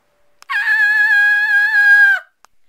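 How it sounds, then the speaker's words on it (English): A person lets out a single loud, sustained high-pitched scream lasting under two seconds, with no other sound around it. "I apologize for screaming."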